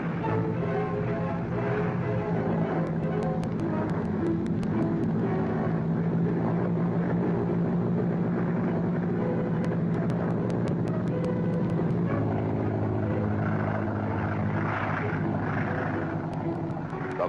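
Boeing B-17 Flying Fortress bomber taking off from an airfield, a loud steady multi-engine propeller drone that holds throughout with a slight shift in pitch partway through.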